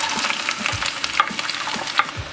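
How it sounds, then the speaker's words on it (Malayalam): Onions frying in sunflower oil, with a close steady sizzle and a few soft stirring scrapes over a couple of seconds. "നമുക്ക് ഉള്ളി ഇട്ട് കൊടുക്കാം."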